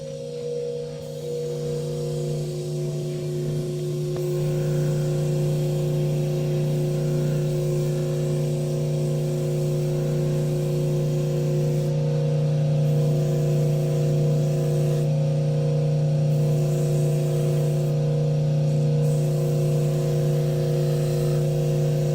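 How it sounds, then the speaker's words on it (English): A burnishing wheel spins against the edge of a waxed pocket paddle, giving a steady, continuous motor hum with strong even tones that hold at a constant level for the whole stretch. "we will burnish it using the burnishing wheel you see behind me"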